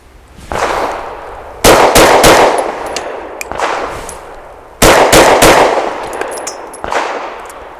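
Pistol shots from a PSA Dagger firing Winchester White Box ammunition ring out loud and close, in irregular pairs and singles with sharp cracks and brief echoing tails, with no talking.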